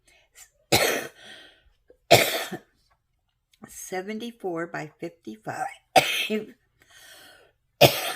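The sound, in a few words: coughing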